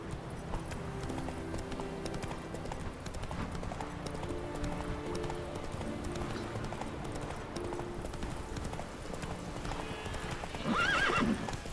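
Horse hooves clip-clop steadily in The Witcher 3, with a neigh or whinny rising near the end, loud and continuous over low game music.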